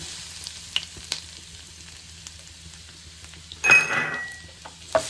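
Chopped garlic going into browned cumin and butter in a pan, a faint background sizzle with a few light clinks, then a brief louder burst of hissing as the garlic hits the fat.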